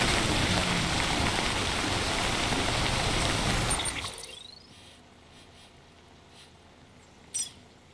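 Steady heavy rain in the video game Death Stranding Director's Cut, a loud dense downpour hiss for about four seconds that then cuts to a quiet ambience with one brief soft knock near the end.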